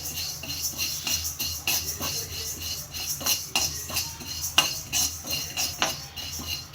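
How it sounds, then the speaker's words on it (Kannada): Urad dal being dry roasted in a pan, with a steady scrape and clink of a spatula stirring the dry lentils against metal, close and continuous with sharper taps throughout. "ಉದ್ದಿನ ಬೇಳೆನ ಹಾಕೊಂಡು ಡ್ರೈ ರೋಸ್ಟ್ ಮಾಡ್ಕೋಬೇಕು"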